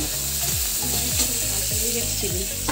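Whole spices and tomato fry in a hot pan, a loud continuous sizzle with intermittent scraping stirs and clinks of a utensil against the pan.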